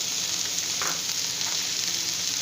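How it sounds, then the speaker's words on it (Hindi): Chicken frying in a pan with freshly added bell pepper and carrot, a steady close hiss and crackle of sizzling oil running throughout with no voices. "अब हमने इन सब्जियों को ओवर कुक नहीं करना, सिर्फ इनको हल्का सा फ्राई करना है।"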